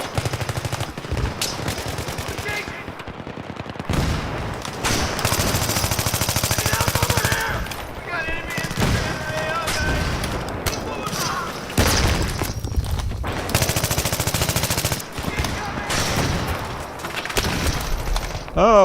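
Video game Take Us North battle with 64 players: dense bursts of machine-gun fire, scattered single shots and booming grenade explosions, loud and continuous, with someone talking over the fighting.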